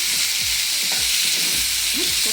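Tomato and garlic fry in a pan with a loud, dense hiss of hot oil throughout, broken by a few low knocks and scrapes from stirring.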